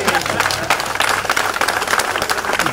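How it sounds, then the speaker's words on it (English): Audience at a street dedication ceremony breaks into applause, a dense, steady burst of hand clapping from many people close by, lasting a few seconds. "Give yourself a hand clap."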